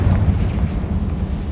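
In Hogwarts Legacy, a Confringo explosion spell erupts as a loud, low, rumbling blast that stays heavy and sustained across the short moment, booming without any voices over it.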